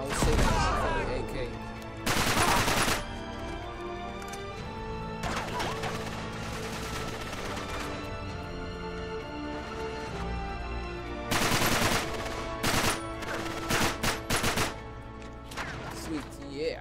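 Uzi gunfire bursts in Uncharted 3: rapid automatic volleys crackle in several loud clusters, with game explosions and impacts in between over a constant rumbling backdrop.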